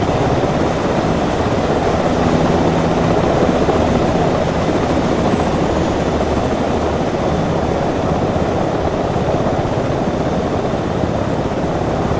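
Continuous helicopter rotor and turbine roar from an Arma 3 military game session, loud and steady throughout with no pauses or voices.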